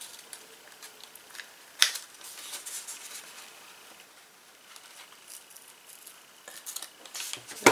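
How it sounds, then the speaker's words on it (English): Scissors trimming washi tape for Bible journaling, quiet close snips and light paper rustles, with a few sharper cuts standing out. "You might take a pair of scissors and just trim it up"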